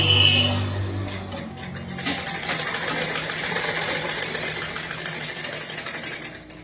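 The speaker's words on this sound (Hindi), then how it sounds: "बिल्कुल इसी तरीके से आपको सिलना है, बहुत आसान है" A sewing machine stitching fabric runs in a fast, steady mechanical rattle close by after a brief faint tone at the start, with no talking.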